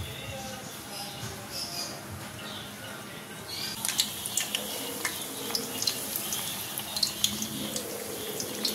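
Battered eggplant slices go into hot oil. The first few seconds are quiet, then a sharp, crackling sizzle bursts in and keeps popping steadily close by.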